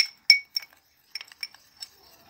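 A spoon clinks against a glass bowl while a coffee powder face mask is stirred, with sharp metallic taps in irregular bursts and brief quiet gaps between them.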